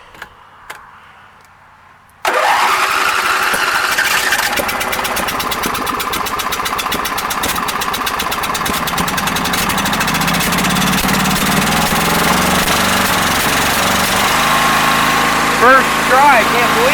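Husqvarna riding mower engine started at full throttle and full choke: a quiet lead-in, then the engine catches abruptly and settles into a loud, steady, rattling idle, close by.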